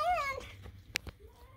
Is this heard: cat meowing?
yes